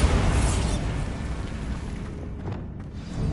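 A Bombarder spell explosion in Hogwarts Legacy bursts with a loud, close boom that rumbles on and slowly fades over a few seconds, with no voices.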